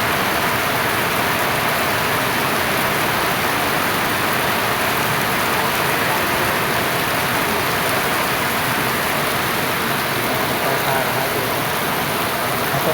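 Heavy rain pours down continuously, a dense, loud, even hiss of water falling on surfaces with no break, close by and unaccompanied by talk.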